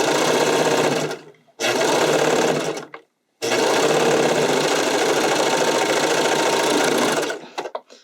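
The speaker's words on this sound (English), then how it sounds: "And you're just serging around the edge." A serger overlocks the edge of spandex sleeves using a longer stitch, running in three fast, even whirring bursts separated by short pauses, close and loud with no talking.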